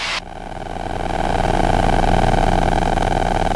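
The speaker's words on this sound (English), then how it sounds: "It's got 100 horsepower Rotax. It is carbureted" A light aircraft with a 100-horsepower carbureted Rotax engine drones steadily during a climb, a loud, close, continuous hum that swells slightly after a brief dip at the start.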